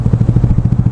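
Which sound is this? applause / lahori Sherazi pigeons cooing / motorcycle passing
motorcycle passing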